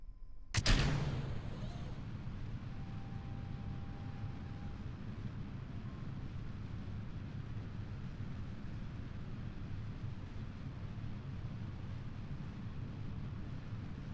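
A rocket engine throttled to full in Kerbal Space Program kicks in with a sudden loud burst, then settles into a steady, dense roar that holds unchanged for over ten seconds.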